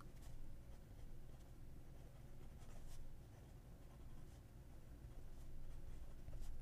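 A fountain pen nib glides across paper in quick, fast writing, the soft scratchy strokes close but quiet, faint ticks marking each stroke, with no talking.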